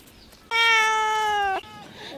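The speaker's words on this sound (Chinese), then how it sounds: "把这个皮喂一下小猫" A kitten gives a single loud, drawn-out meow lasting about a second, with faint room noise before and after and a short trailing sound at the end.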